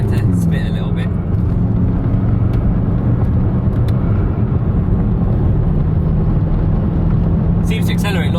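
A BMW F10 M5 accelerates hard at very high speed on a run toward 200 mph, heard from inside as a loud, steady roar of engine and road noise that continues throughout.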